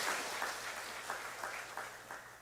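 A church congregation claps during a Sunday morning service, scattered hands beating in a loose rhythm for a couple of seconds, fairly faint and heard from a distance.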